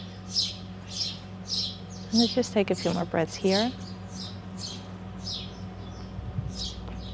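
Birds chirping outdoors after a surf session, repeated short bright calls at a regular pace, faint and distant, under a calm spoken voice giving instructions.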